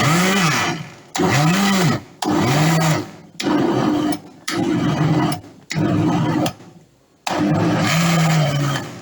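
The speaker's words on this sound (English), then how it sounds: "I close it up and I put it on my blender" A blender blending tomatoes runs in repeated loud bursts, whirring and straining with rising and falling pitch, broken by short pauses between pulses.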